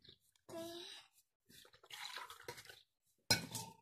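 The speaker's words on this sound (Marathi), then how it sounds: "थांब ना पाणी सांडलं." Water spills and splashes at home in a few short, close bursts, with a child and an adult talking in between.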